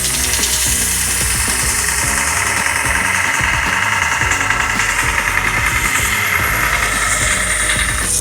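Belt grinder removing leftover metal from a water-jet-cut knife blade blank, a continuous loud harsh grinding roar with rumbling motor underneath, steady throughout with no voices.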